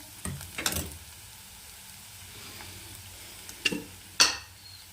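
Onions frying in a pan, stirred in a few short scraping bursts over a quiet background sizzle.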